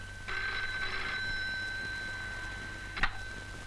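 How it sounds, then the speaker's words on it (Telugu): An indoor telephone rings in one long continuous trill that then stops, followed by a short clatter like the receiver being lifted, with no talking. "నీకు ఫోను"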